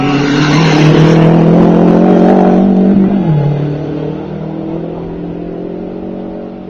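A race car at the 2012 Subida al Garbi hill climb in Serra accelerates hard and close, its engine note climbing loudly before dropping sharply at a gear change and fading as it pulls away.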